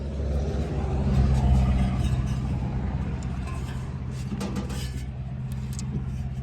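A little International diesel truck motor turning over and idling steadily, a low rumbling engine sound that swells slightly then holds evenly throughout, close by.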